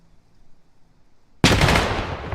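A loud burst of gunfire in a competitive 6v6 shooter championship match erupts suddenly after near silence and rattles on steadily to the end, close and dominant with no voices.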